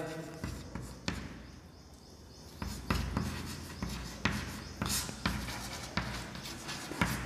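A pen or chalk writes by hand during a Sanskrit lesson on Shalini metre, giving soft scratchy strokes and light taps in an irregular rhythm, close and fairly quiet.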